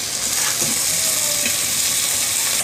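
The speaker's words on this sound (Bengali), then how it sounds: "এখন এই সব উপকরণগুলোকে বাদামি কালার করে ভেজে নেব" Salted onions fry in hot oil until light brown, a loud, continuous close sizzle with faint stirring scrapes underneath.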